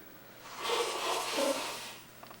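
A man blows his nose in a hotel room near a rainforest, giving one long, moderately faint, breathy honk that lasts a little over a second in an otherwise quiet room.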